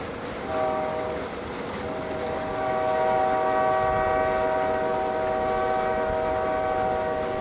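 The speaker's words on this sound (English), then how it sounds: "It's just a lowly Canadian Pacific freight train, loaded with grain and traveling forth to help feed a hungry world." A Canadian Pacific grain freight train rumbles past with a sustained, chord-like horn blaring over the steady roar of wagons, loud and close throughout.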